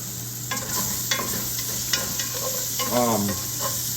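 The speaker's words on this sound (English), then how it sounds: "ginger garlic paste, and let this simmer for about a minute to 2 minutes" Ginger garlic paste sizzling and simmering in a pan with cinnamon and cloves, a steady fizzing hiss under a constant background hum, broken by a few light utensil clicks and a short stirring scrape.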